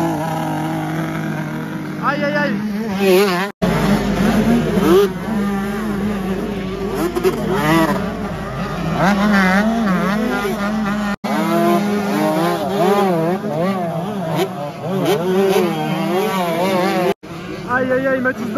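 Motocross bikes race at a French Elite championship round, engines whining and revving in rapid, wavering bursts close by. A commentator talks excitedly over the steady roar.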